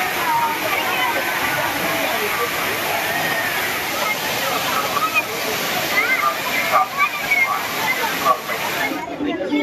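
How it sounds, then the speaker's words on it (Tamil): Water pours down at Thirparappu falls in Tamil Nadu, a loud, continuous rushing roar with splashing, and voices are faintly mixed in among the crowd of holiday bathers. "அருவியில் மிதமான அளவிற்கு நீர் கொட்டியதால் சிறியவர்கள் முதல் பெரியவர்கள் வரை குளித்து மகிழ்ந்தனர்"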